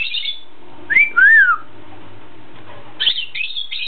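Pet bird whistles and chirps up close, giving a few bright rising and falling whistled notes, then a short burst of sharp chirps after a brief pause.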